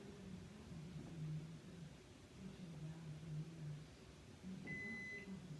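A microwave oven runs off a 2000 watt inverter, a steady low hum and drone throughout with a brief high electronic tone near the end.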